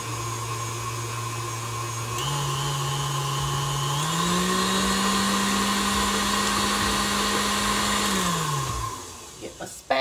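An electric mixer whirs steadily through Reese's peanut butter pie filling, its pitch climbing in steps as the speed rises, then winding down near the end with a few clunks.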